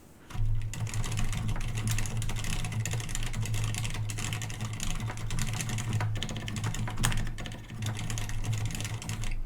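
Steady typing on a Ducky mechanical keyboard fitted with silent red switches, a continuous run of soft, muted key presses at close range with a low hum underneath and no voices.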